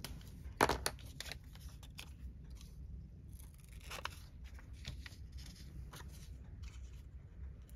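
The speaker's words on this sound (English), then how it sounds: "I'm just going to use scissors." Quiet scissor snips cutting paper at close range, a sharp crisp cut near the start and a few softer snips after, over low steady background hum.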